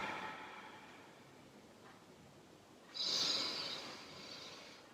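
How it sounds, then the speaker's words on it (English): A person doing a yoga hatha flow breathes deeply through the nose: a soft, drawn-out inhale followed by a louder, airy exhale, close and alone with no talk. "Deeply inhale and exhale through the nose"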